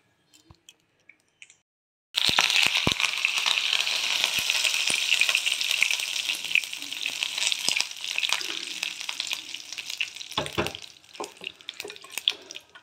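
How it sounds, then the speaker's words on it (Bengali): Black mustard seeds, cumin and curry leaves drop into hot oil. After about two seconds of near silence, a sudden loud, hissing sizzle erupts close by, with crackles and pops that ease slightly over time. "একটু কালো সর্ষে দিয়ে দিলাম, জিরে দিয়ে দিলাম, কারি পাতা দিয়ে দিলাম"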